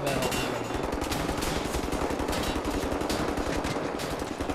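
Relentless, loud automatic gunfire roars through a firefight in Wolfenstein: The New Order, a dense steady stream of shots with no pause for the whole stretch and no voices.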